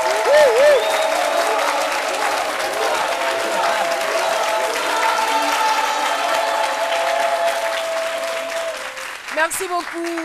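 A live studio audience on a French-language midday TV show applauds loudly and steadily for about ten seconds, with crowd cheering mixed in and a presenter speaking over it.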